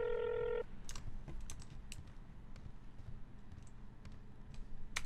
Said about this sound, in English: it's just dialing.